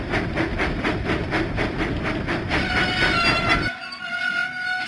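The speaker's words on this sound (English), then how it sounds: "Thomas pumped his pistons and puffed out of the docks." Thomas the Tank Engine in a kids' video game puffs out of the docks with steady rhythmic steam chuffs, close and loud, before the sound drops off near the end.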